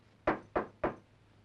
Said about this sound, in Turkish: Kapı çalınıyor, duymuyor musunuz Perihan?